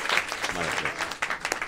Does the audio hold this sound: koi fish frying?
no